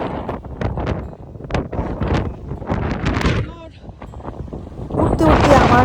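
Strong gusty wind on Calton Hill in Edinburgh buffets the microphone in loud, rumbling surges that rise and fall, while a person talks over it throughout.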